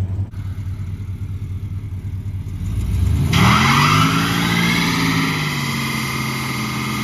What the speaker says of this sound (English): All right, now it's time for burnouts.